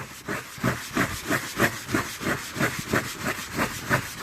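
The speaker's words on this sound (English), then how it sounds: "I'm going to give it a little scrub here" Brush scrubbing across a five-year-old EPDM coating on an RV roof, with steady rhythmic back-and-forth strokes giving a hissing, close scrape at an even pace.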